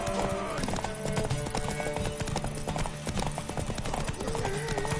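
A horse gallops in The Witcher 3, its rapid hoofbeats clip-clopping steadily throughout amid dense game music and ambient effects, with a brief whinny and occasional character voices.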